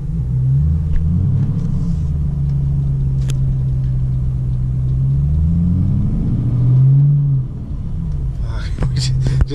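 A car drives on a snowy road, its engine and road rumble droning steadily and loudly close by, with a couple of faint clicks and a short rustle near the end.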